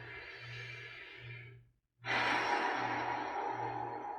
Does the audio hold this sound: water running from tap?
no